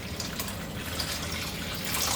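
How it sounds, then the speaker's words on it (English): Water pours steadily into a mango peach strawberry lemonade mixture of fruit and sugar, a continuous close splashing gush with no talking. "and water to thin it down"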